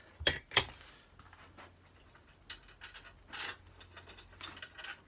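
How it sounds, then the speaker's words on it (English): Ratchet and spanner undoing the head bearing nut on a scooter, with two sharp metallic clicks near the start followed by quieter, scattered ratcheting and tool clatter close by. "Good ratchet and a spanner"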